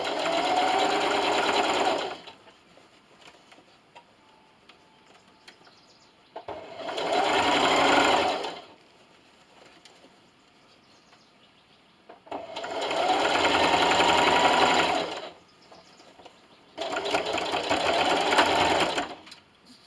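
Sewing machine stitching a fabric carrot treat bag, worked in four close bursts of rapid, steady whirring needle chatter, a few seconds each, separated by near-silent pauses.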